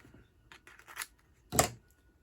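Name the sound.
scissors cutting paper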